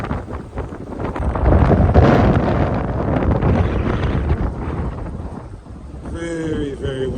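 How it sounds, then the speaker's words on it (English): Strong wind buffets a boat at sea in foul weather, a loud broadband roar that swells and gusts steadily throughout, with a brief whistling tone near the end. "Very, very windy."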